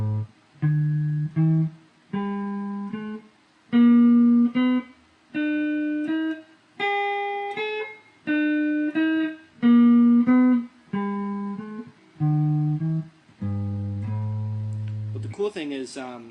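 An electric guitar plays an A Aeolian lick with passing tones, a string of distinct single notes and short phrases with clear attacks and brief gaps, close and moderately loud, ending on a low sustained note and a strum, no speech.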